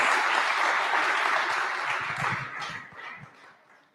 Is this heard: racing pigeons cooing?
no